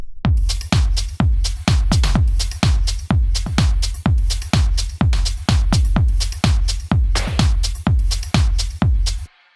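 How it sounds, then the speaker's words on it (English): A drum beat playing alone, close and punchy, with a steady pattern of deep kick thumps and sharp snare cracks repeating evenly for about nine seconds before stopping abruptly. "So the drums right now sound like this."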